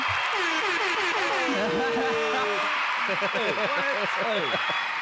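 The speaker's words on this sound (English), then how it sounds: "You're clapping louder." A podcast audience claps continuously as a steady wash of hands, while someone talks loudly over the top and a brief chuckle slips in.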